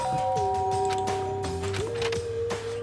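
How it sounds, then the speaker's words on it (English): A doorbell rings in the video game Danganronpa, a sustained electronic chime that shifts pitch partway through over a steady background tone. "There's a doorbell next to the door. I guess I should use that."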